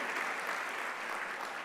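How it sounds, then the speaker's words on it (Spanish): A church congregation applauds in praise during a Spanish-language sermon, a steady wash of many hands clapping held at an even level throughout, moderately distant with no voices over it. "Denle un aplauso al Señor."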